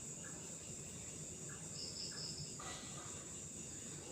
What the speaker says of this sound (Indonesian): Tonggeret geus capean hihiberan.